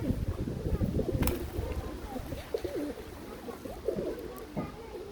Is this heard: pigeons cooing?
yes